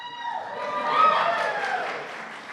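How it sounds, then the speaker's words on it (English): Audience applause at a Hall of Fame induction ceremony, a moderate, fairly steady wash of clapping that swells near the middle, with faint tonal sounds threaded through it. "That was an applause line."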